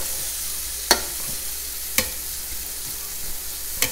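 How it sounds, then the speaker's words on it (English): Zucchini noodles fry and hiss in a pan for a keto Cajun shrimp Alfredo, with a utensil scraping through them in three distinct stirring strokes over the steady sizzle. "All right, so we're gonna stir this up."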